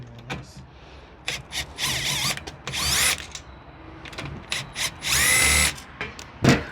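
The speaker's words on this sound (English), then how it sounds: "Tony, can you just drill that out for me? Take the screws out." A power drill whirs in short bursts, revving up and stopping repeatedly as screws are backed out of a fly screen door, with clicks and rattles between runs.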